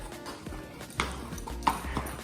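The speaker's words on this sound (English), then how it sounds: "So while Percy has been going back to the stable" Hooves of a horse walking back to the stable at a barn, a few uneven clip-clop steps close by against steady outdoor background noise.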